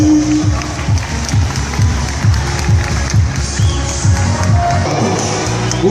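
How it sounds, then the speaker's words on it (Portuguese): A crowd claps and cheers steadily over a thumping rhythmic beat at a Miss and Mister pageant runway, loud and continuous throughout. "na passarela com os aplausos, Danilo Ferreira, cadê os aplausos bem forte"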